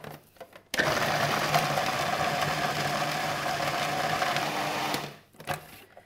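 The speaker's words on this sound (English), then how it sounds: "tear it into pieces and just put it straight into a food processor. And a small bunch of parsley, and then just whiz until you have breadcrumbs" A food processor whizzes torn ciabatta bread and a small bunch of parsley into breadcrumbs, giving a loud, steady motor whir that starts abruptly, runs about four seconds and then winds down, with no talking.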